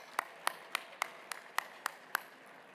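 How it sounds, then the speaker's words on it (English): A few distinct claps spaced about a quarter second apart, eight or so sharp slaps in a quiet room at an annual dinner, faint and fairly near. "Let's give a round of applause to the Chase Center staff for all their hard work"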